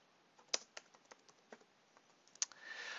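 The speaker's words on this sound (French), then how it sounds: "et là je tape part de marché" Quiet clicks of typing on a computer keyboard, a short run of light keystrokes in an irregular rhythm with two sharper taps, close by and alone, ending in a soft hiss.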